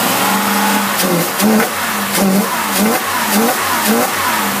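A Holley 750 double-pumper carburetor-equipped car engine revs loudly and steadily, the pitch rising and falling in repeated surges, close by with no talking.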